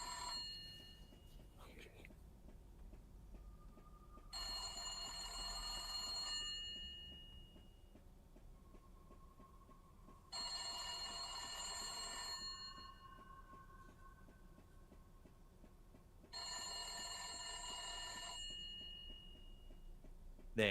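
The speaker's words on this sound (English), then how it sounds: "An old and rusty phone that looks like it dates back multiple decades abruptly begins to ring," An old, rusty telephone rings loudly in three separate bursts, each about two seconds long, with quiet pauses between them and no voices.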